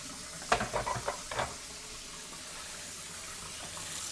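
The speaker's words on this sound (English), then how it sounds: "Oh yeah, I forgot to pour my tea." Tea is poured in a short, faint splashy trickle that lasts about a second, then gives way to a quiet background hum with no talking.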